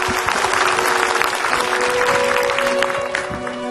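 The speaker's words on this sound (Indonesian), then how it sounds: "Tepuk tangan" Studio audience applauding during an Indonesian Islamic television program, a steady dense wash of clapping that fills the whole stretch at fairly loud level, with no voices on top.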